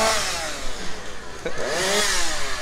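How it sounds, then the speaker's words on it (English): Chainsaw running at a Halloween park event, a steady buzzing drone with pitch swells as the engine revs up and down, moderately close amid outdoor crowd noise. "Oh yeah, we love a chainsaw."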